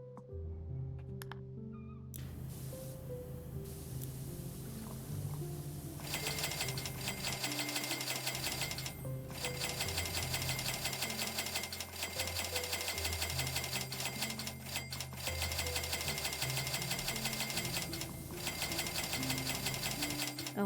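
A pressure washer sprays steadily in PowerWash Simulator, a continuous dense mechanical hiss that starts partway in and runs to the end, with music in the background.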